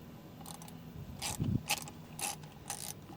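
A hand ratchet works on a T25 bolt on the steering column of a 2004 Chevrolet Silverado, giving several short bursts of close, crisp clicking separated by brief pauses.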